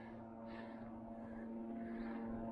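Helicopter flying over open moorland, a steady low rotor and engine drone heard from a distance with no talk.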